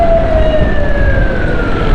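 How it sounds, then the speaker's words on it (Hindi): Ambulance siren wailing in heavy Karachi traffic, a loud sweeping tone sliding steadily downward over a rumbling road and engine bed, with no talk. "एम्बुलेंसें भी फंसी होती हैं, वो देखें।"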